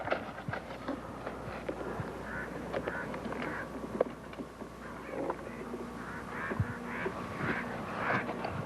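A large flock of geese honks continuously at a goose camp in Tamaulipas, Mexico, a dense overlapping chorus of many birds at mid distance with scattered louder calls standing out.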